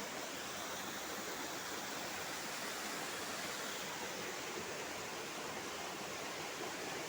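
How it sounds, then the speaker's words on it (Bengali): Red, muddy water pouring over rocks like a waterfall on a hillside, a steady, dense, unbroken rushing roar heard up close with no voices. "ঝর্ণার মতো লাল জল পড়ছে।"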